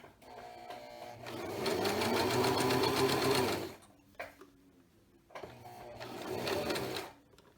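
A sewing machine stitches a reversible tote bag in two sustained runs of steady, close whirring, separated by a pause with faint handling noise.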